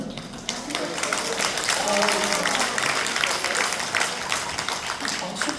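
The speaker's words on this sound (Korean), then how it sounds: "박수까지 쳐주시니까 제가 몸둘 바를 모르겠어요" A lecture audience applauds a professor, a steady broad wash of many hands clapping throughout at moderate loudness, with his voice talking faintly over the clapping.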